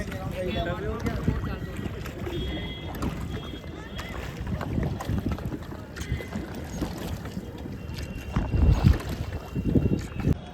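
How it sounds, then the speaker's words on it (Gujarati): Rowing boat out on Nainital lake in cold, misty weather, with a steady wash of water and wind noise around the hull and occasional louder splashes near the end; voices murmur intermittently. "અમે બોટિંગ કરી રહ્યા છીએ."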